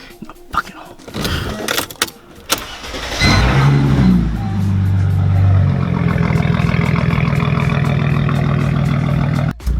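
Mercedes CLK car backing out of a cul-de-sac, its engine starting with a burst of mechanical clatter and then settling into a steady, fairly loud idle and low rumble while it reverses, with speech heard early on.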